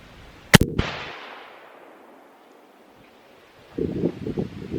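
A single sharp, loud .338 Lapua rifle shot on an outdoor range, with a booming report that fades into a long echo, followed by quiet and then rustling handling noise.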